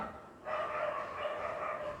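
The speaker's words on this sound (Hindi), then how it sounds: "सॉरी, वो कुत्ते लोग की फाइटिंग चालू नीचे।" Dogs barking downstairs in a home, a sustained burst of several overlapping barks heard from a distance, steady and fairly loud for about a second and a half.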